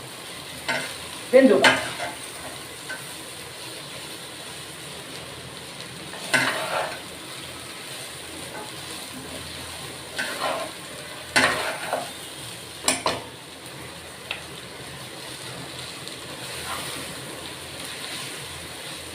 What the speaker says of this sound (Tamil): நான் கலரிட்டுருக்கேன்